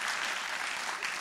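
A conference audience at a startup event in Exeter gives a brief round of applause, a soft, even wash of clapping heard alone for just over a second.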